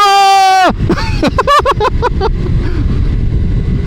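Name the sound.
125cc motorcycles accelerating at full throttle in city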